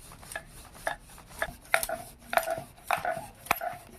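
Rice-flour roti dough is rolled out with a rolling pin, making about seven steady, close rubbing and knocking strokes in an even rhythm, with no talking.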